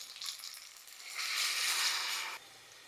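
Water poured into a hot pan of sautéed rice and toor dal for a spiced masale bhaat gives a soft hiss that swells into a steady, fairly faint sizzling rush for about a second before cutting off.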